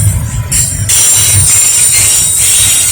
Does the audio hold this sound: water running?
no